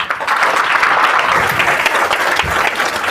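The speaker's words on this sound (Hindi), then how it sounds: "लास्ट 10 मिनट ताली बजा दीजिए" A seminar audience bursts into loud, sustained applause, a dense wash of many hands clapping steadily and close throughout.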